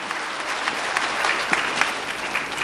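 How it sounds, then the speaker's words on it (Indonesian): Audience in a seminar hall breaking into lively applause, a steady wash of many hands clapping with a few sharper claps standing out, sustained for the whole moment. "tepuk tangan yang meriah Bapak Ibu, wow."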